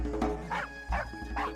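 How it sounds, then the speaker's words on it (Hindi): A few sharp dog barks ring out in quick succession in a Marathi TV serial, fairly close, with no voices between them. "और ये कुत्ते क्यों भौंक रहे हैं?"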